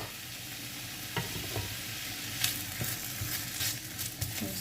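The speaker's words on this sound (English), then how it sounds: "we're going to allow this saute for some minutes before adding our garlic" Sliced onions sizzle steadily in a pan for a coconut sauce, with a constant frying hiss and a few sharp crackles and stirring taps up close.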